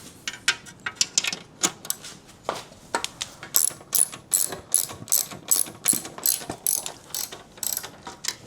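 A ratchet wrench tightens bolts on a Harley-Davidson motorcycle build, clicking in rapid bursts of pawl ticks with short pauses between strokes, close and alone.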